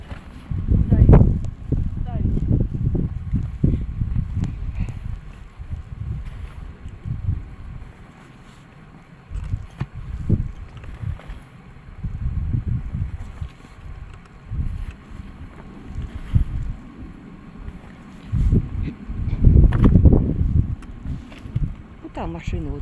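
Blizzard wind blowing snow in rural Altai Krai in March, heard as loud low rumbling gusts and microphone buffeting that rise and fall throughout, with people talking over it.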